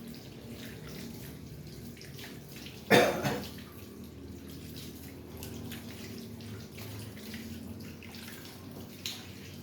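Tap water runs steadily as sweet potato leaves are washed by hand, a soft continuous trickle with a brief louder splash and cough partway through.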